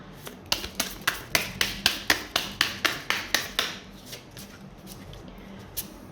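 Gypsy fortune-telling cards are shuffled in a quick, even run of about a dozen sharp riffling slaps, close and loud, then trail off into a couple of softer taps.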